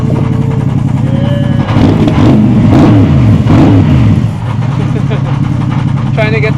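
A Mercedes SLS revs as it is driven out at the Manila Auto Salon 2023, a loud, close burst of deep engine roar swelling for a couple of seconds before settling back to idle, with people talking nearby throughout.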